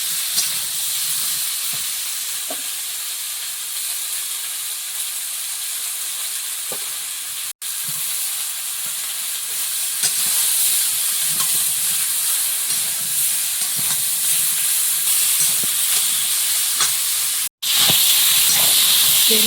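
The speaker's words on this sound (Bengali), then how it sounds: "বেগুন আলু ভাজা হয়ে গেছে, এবার জল দিয়ে দেবো।" Eggplant and potato frying in a pan for a home-cooked meal in the Sundarbans, a steady close hiss and sizzle that runs throughout with faint stirring and no talk.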